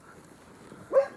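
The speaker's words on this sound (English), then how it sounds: "There's a dog barking at me." A single short dog bark sounds near the end, moderately close and sharp, after a quiet stretch of faint background noise.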